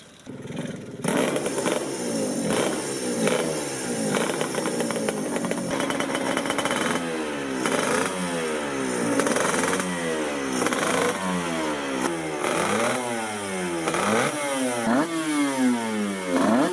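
A Kawasaki Grand Prix-winning racing motorcycle revs hard and repeatedly, its engine note sweeping up and down in a rapid series of loud, rasping blips that carry on for over fifteen seconds.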